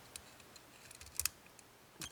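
A key works an ILCO Unican A400 double safe deposit lock, giving a few sharp metallic clicks and ticks close up, with a louder double click midway and a rattle at the end.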